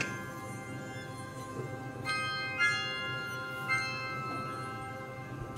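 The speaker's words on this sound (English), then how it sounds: "Chimes and strings and it's like spa music." Soft, faint chimes ring out a few times, spaced over a quiet sustained tonal background like gentle spa music.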